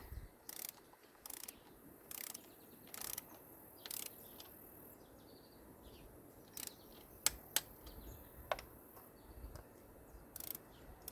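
A ratchet tightens bolts on a Jeep 2.4 engine while a valve cover is being installed, giving short, evenly spaced bursts of clicking at a steady working rhythm over a quiet background.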